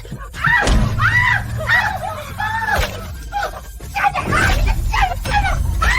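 Loud, strained screaming fills the room alongside shouting voices, with a thud partway through.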